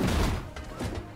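An explosion attack in the video game Marvel Strike Force goes off as a loud, booming burst that fades quickly, followed by a softer second thump.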